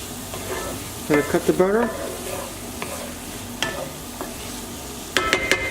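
Chicken taco stuffed peppers cook in a hot pan, a low steady sizzle broken by a few sharp clatters and scrapes, while someone speaks briefly over the frying.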